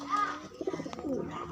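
Young racing pigeons coo in short, close bursts at a toss in Mabalacat, Pampanga, with a few brief chirps mixed in.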